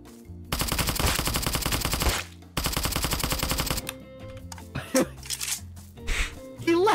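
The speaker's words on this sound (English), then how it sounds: "Oh, I hear shots." Rapid automatic gunfire in the Roblox game Apocalypse Rising 2, two long dense bursts followed by scattered shots, with people talking over the later part.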